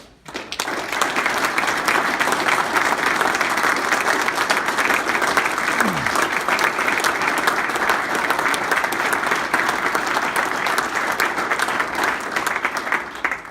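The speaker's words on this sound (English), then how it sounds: "So Pastor Steve, let's give him a round of applause." A long round of applause in a church gathering honoring a pastor, steady, loud and dense clapping from a large crowd that carries on evenly for over ten seconds before fading out.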